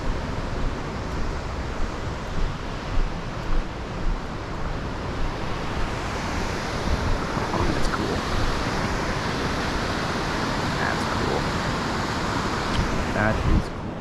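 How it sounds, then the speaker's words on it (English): Ohanapecosh Falls and the Ohanapecosh River roar in a loud, steady broadband rush that holds without a break and drowns out everything nearby. "Waterfall's so loud we can't hear each other communicate."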